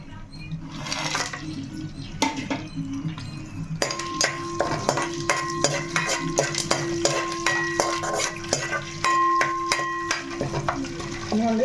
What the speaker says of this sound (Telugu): చక్కగా మనకి వేగుతున్నాయి కదా